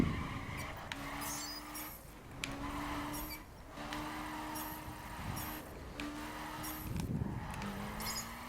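A drift car in a video game, standing in for an RX-7, revs and slides with repeated engine pulls and tire squeal in rhythmic bursts about every second or two, fairly close.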